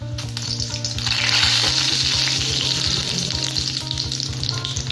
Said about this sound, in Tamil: எண்ணெய் ஹீட் ஆயிடுச்சு. இப்போது நான் கடுகு, ஜீரகம் இது 2த்தையும் போட போகிறேன்.